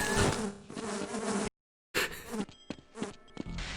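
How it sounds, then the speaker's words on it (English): Bees buzz in a Fallout video game, a dense, close, continuous drone that drops out briefly and then returns in choppy, pulsing swells. "These bees are killing me."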